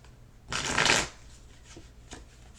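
A brief riffle of tarot cards being shuffled, one crisp burst followed by a couple of faint taps, close and quiet.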